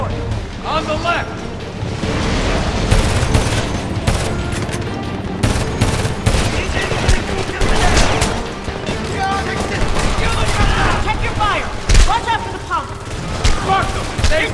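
Dense, continuous gunfire with repeated heavy explosions and crashes in the Homefront video game, rapid bursts layered over booming blasts throughout, loud and close, with shouting soldiers' voices mixed in.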